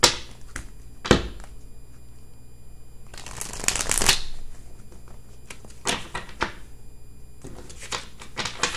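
A tarot card deck being shuffled by hand, with close, crisp riffling bursts and cascades separated by quieter pauses and light handling clicks.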